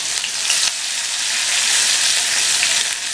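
Cumin, garlic, ginger and green chillies saute in hot oil, a loud, dense, continuous hiss and crackle close up, with no voices.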